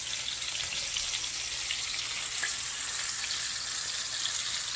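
Tilapia frying in a pan, giving a steady, even hiss and sizzle that holds throughout at moderate level, with no talking.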